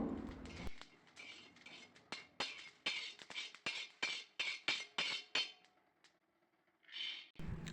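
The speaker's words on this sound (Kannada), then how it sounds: "ಚಿಯಾ ಸೀಡ್ಸ್ ಫುಲ್ ಸೌಂಡ್ ಬರೋವರೆಗೂ ನಾವು ಫ್ರೈ ಮಾಡ್ಕೋಬೇಕು" Chia seeds frying in a hot pan while making dry fruit laddu, giving a rapid run of sharp, loud pops and crackles close by, clustered over several seconds, then a brief lull before a final burst.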